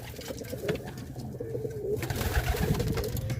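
Color-breeder pigeons coo in a low, rolling rhythm near a nest of newly hatched chicks, with steady soft calls continuing throughout and a rise in loudness toward the end.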